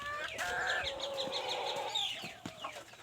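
BV380 chickens on a chicken farm cluck and chatter, with several overlapping calls and short rising squawks heard fairly close over a low background hum.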